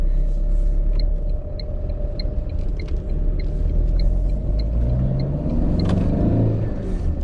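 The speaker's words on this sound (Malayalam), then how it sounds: "ഞാൻ ഫസ്റ്റ് ഗിയർ ഇട്ടിട്ട് വെഹിക്കിൾ ഒന്ന് ഓടിച്ചോട്ടെ" A Tata Nexon with a 1.5 litre diesel engine pulls away in first gear, its deep, steady engine rumble loud and close throughout, with a faint rise in revs and no speech.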